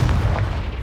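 In Hogwarts Legacy, a Confringo explosive spell bursts in a single heavy blast, a short deep boom with a rumbling low-end tail.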